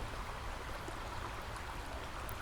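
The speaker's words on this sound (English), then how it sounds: "give thanks to the forest here, this creek here" Creek water flowing through a forest, a faint, steady broadband rush and trickle that continues evenly with no voices.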